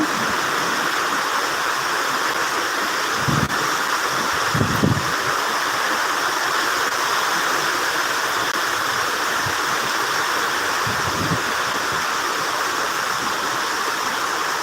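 Heavy rain pouring in Uttara, Dhaka during a thunderstorm, a dense constant roaring hiss of downpour with a few dull low thumps scattered through.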